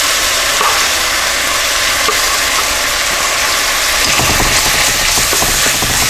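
Mushrooms and onions stir-fry in a wok for a cheesesteak, a loud, dense, continuous sizzle with rough scraping and tossing growing busier toward the end.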